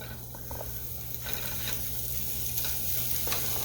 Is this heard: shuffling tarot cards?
no